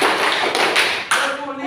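In a class clapping game, students clap together in a few sharp group claps, close and loud, with a break in rhythm before a final clap.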